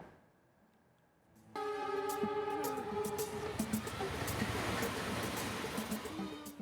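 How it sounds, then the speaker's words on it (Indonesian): The Wijaya Kusuma train locomotive races through a station at high speed. A quiet stretch gives way to a sudden loud, sustained rumbling roar with a strong horn-like tone, under a news narrator's voice. "Rangkaian kereta melaju tanpa berhenti di stasiun dengan lokomotif menyemburkan asap hitam tebal."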